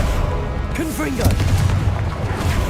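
A Confringo blast spell exploding in the Hogwarts Legacy video game, a loud booming burst with crackling debris over game ambience, while a voice talks.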